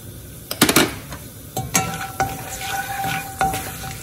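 Bay leaf and cinnamon crackle and sizzle in hot oil, with sharp pops at first and then a steady frying hiss, while a metal spoon clinks against the pan.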